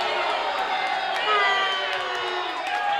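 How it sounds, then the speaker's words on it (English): A simulated arena crowd roars continuously during a match in the wrestling video game Wrestling Evolution Aggression, with scattered whoops and shouts rising above a steady wash of crowd noise. "You hear the crowd here."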